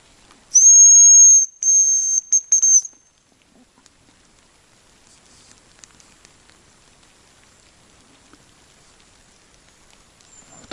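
A hazel grouse's high, thin whistle rings out in a few sustained notes in the taiga, then quiet woodland with faint scattered rustles and ticks.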